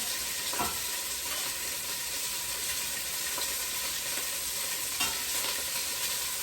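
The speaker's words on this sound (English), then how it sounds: "So here goes the sizzle." Chunks of beef for stew sizzle loudly and steadily in a hot pan, with a few scraping stirs breaking through the continuous hiss; no one speaks.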